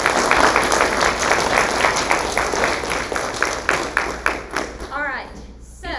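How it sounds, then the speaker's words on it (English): A room of parents at a high school information night claps for teachers, with brisk applause that gradually fades before a voice begins speaking at the end. "I think they deserve a round of applause"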